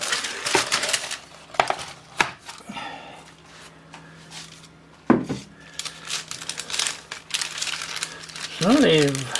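Baking paper crinkles in several brief bursts as a slab of homemade chocolate praline is covered with paper and a board and flipped, with clinks and handling noises mixed in and a voice talking over parts of it.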